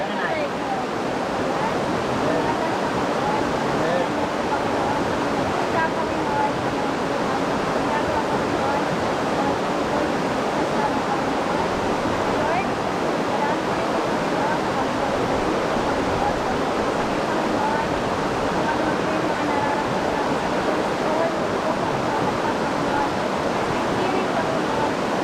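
A river flows in a constant broad rushing roar, close and loud, with no break for the whole stretch.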